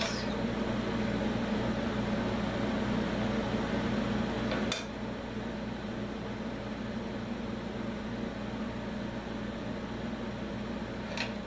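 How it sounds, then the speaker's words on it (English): A window air conditioner unit runs in a hot home sewing room, a steady broadband hum with a low droning tone, loud and constant, dropping slightly in level partway through, with a faint click near the start and end. "I'm under the air conditioner. I have a window unit in my sewing room because it gets hot out here."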